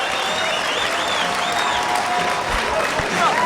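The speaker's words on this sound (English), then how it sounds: "The crowd is rolling. They're really appreciating the amount of effort the fighters are putting on." A crowd applauds and cheers at an AFC fight, with sustained clapping and whistles filling the arena while a commentator talks over it.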